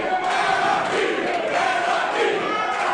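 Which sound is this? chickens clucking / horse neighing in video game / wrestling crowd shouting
wrestling crowd shouting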